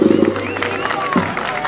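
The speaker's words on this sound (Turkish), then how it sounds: "Ve değerli orkestraya da kuvvetli bir alkış istiyorum." A crowd at a Roma night concert in Silivri applauds the orchestra, a brief burst of clapping and cheering mixed with voices and lingering musical tones.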